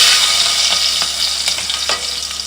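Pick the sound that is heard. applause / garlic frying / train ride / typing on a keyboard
garlic frying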